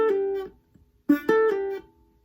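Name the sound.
guitar notes with pull-off from a song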